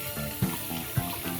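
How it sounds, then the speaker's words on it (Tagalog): Running tap water washes meat bones in a kitchen sink before they are blanched for a Chinese soup. The water makes a continuous close splashing rush, with two brief knocks of bones or hands in the stream. "Bago po natin i-blanch, hugasan muna natin kasi galing ito ng palengke."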